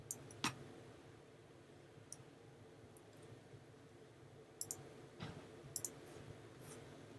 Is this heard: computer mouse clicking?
yes